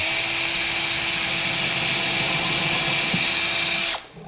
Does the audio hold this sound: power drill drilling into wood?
yes